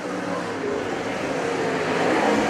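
Late model race cars running on a dirt track in a feature race at Merritt, a loud continuous engine roar that swells slightly as the field goes down the back stretch.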